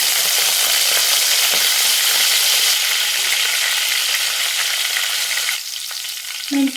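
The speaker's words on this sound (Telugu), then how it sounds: "స్టవ్ ఆన్ చేసి ప్యాన్ పెట్టి హీట్ అయ్యాక 2 స్పూన్స్ ఆఫ్ ఆయిల్ హీట్ అయ్యాక కాస్త మెంతి," Fenugreek seeds sizzling in hot oil in a pan, a loud, dense, steady crackling hiss close up that eases slightly near the end.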